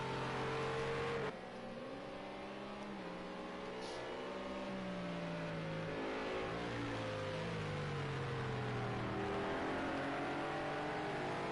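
McLaren and Renault GT3 race cars battle at Imola in Project CARS 2, their engines whining loudly and continuously as the pitch climbs and drops through gear changes, with no talk.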